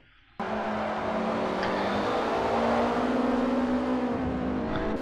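Ford RS200 race cars in Forza Motorsport 4 roar loudly after a sudden start, a sustained high-revving engine note with shifting pitch and a faint squeal, heard alone without talk.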